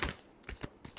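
Tarot cards being shuffled during a Cancer horoscope reading: three quick papery riffle bursts in close succession, near and fairly soft, with no talking.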